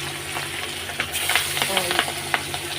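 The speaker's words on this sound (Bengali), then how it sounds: "আর এদিকে তেল গরম হয়ে গেছে এই যে মাছগুলো আমি হালকা হালকা করে ভেজে নেব" Pieces of hilsa fish fry in hot oil, a close, lively sizzle with bursts of spattering crackle and a sudden louder hiss partway through.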